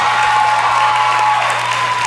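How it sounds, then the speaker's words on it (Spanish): Loud audience applause with some cheering at a televised talent show, a dense wash of clapping over a steady musical hum, sustained throughout. "¿Alguien puede dar un fuerte aplauso a él?"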